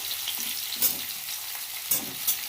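Eggplant frying with tomato and green chillies in a pan, a continuous close oil sizzle broken by a few soft stirring pulses, without any talk.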